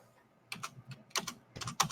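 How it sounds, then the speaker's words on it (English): Computer keyboard typing in quick clusters of clicking keystrokes, three short bursts within two seconds, fairly quiet and close, with no talking. "It's because Bruce plays on the keyboard"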